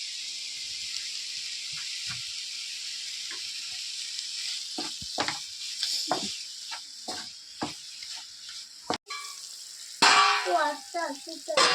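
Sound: chopped tomato added to sizzling pan for mushroom biryani

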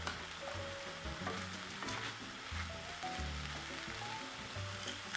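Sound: ground beef sizzling in pan

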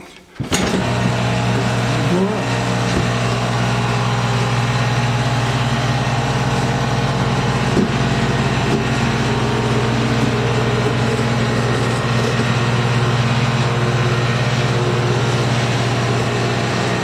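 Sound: motor of DIY home stair elevator running

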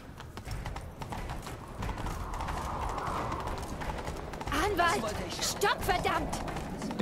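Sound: horse galloping in a video game

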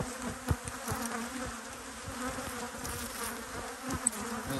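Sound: honey bees buzzing in an opened hive

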